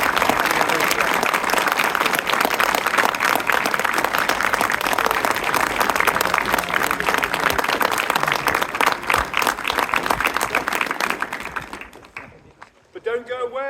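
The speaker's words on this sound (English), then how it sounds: "massive round of applause" A crowd gives a long, loud round of applause at an outdoor cadet field event, dense clapping holding steady before thinning out and fading to a few scattered claps near the end.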